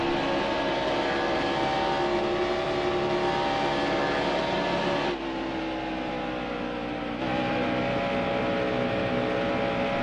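A NASCAR stock car engine roars steadily in NASCAR Heat Evolution practice at Auto Club Speedway in Fontana, a loud sustained high drone that dips briefly as the throttle lifts, then climbs again, with no talking.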